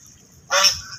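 A single loud, nasal honking call from large ducks swimming on rain-flooded water, rising suddenly out of a quiet background and fading after about half a second.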